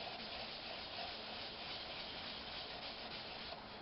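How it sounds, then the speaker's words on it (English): Steady hand rubbing as a finish is buffed in circles on a natural edged oak bowl, a soft continuous scrubbing hiss, close and quiet with no talk. "now we're just gonna try to buff this ourselves, move that stuff around"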